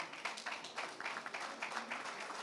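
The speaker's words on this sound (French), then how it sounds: "Vous pouvez l'applaudir." An audience at a trophy awards ceremony applauds a prize winner, a soft, distant wash of many hands clapping with uneven bursts, steady and fairly faint throughout.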